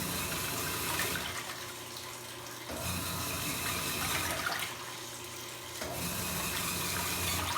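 Two washing machines run side by side, with a steady loud rush of water draining and churning, easing briefly and then surging back in repeated cycles.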